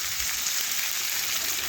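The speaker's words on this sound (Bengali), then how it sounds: "এখন সমস্ত কিছু একসাথে মিশিয়ে একটু ভেজে নেব আলুগুলো" Potatoes coated in salt, ginger, cumin, pepper, garlic paste, turmeric and red chili powder fry in a pan, giving a soft, even, continuous sizzle up close with no talk.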